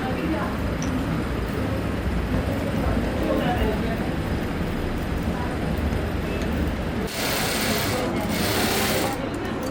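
An electric sewing machine stitches a zip into trousers, a steady loud mechanical whir running almost the whole time, with a brief shift in tone near the end.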